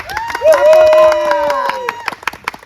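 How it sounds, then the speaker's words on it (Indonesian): Scattered claps from a crowd at an eating challenge come in uneven bursts beneath a loud announcer's voice that dominates the sound. "Kita kasih tepuk tangan."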